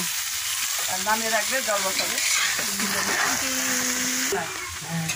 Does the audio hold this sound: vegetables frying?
yes